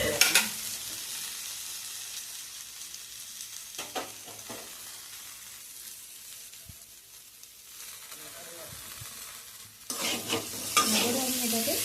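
Ground cumin and coriander powder stirred in a frying pan: soft scraping and shuffling with a low sizzle, quieter through the middle, then a louder burst of hissing and scraping near the end.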